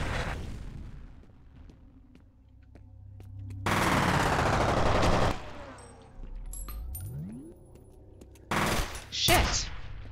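Submachine gun bursts in the first-person shooter F.E.A.R., with rapid automatic fire in a few loud bursts among game sound effects and explosions.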